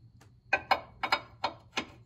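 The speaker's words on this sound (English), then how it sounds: "Now I finish it with the ratchet." Ratchet clicking in short separate bursts, about six, while tightening a coilover bolt on a Mazdaspeed MX5 during a BC coilover install. Close and fairly crisp, with a low hum underneath.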